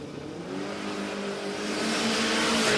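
Drag racing launch of a Toyota Hilux and a Torana down the strip, a loud engine roar rising steadily in pitch and volume as the cars accelerate away.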